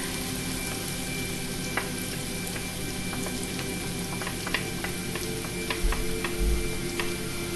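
Garlic frying in oil for Indonesian nasi goreng: a steady, fairly quiet sizzle with scattered small pops and ticks, no talking.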